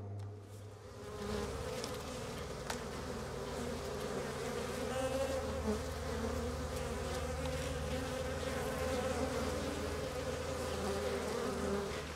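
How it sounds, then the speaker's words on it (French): Honeybees buzz densely around honey frames at a professional apiary during extraction, a continuous close drone with a low steady hum underneath, no talking. "les abeilles sont directement chassées des cadres à l'aide d'une soufflerie"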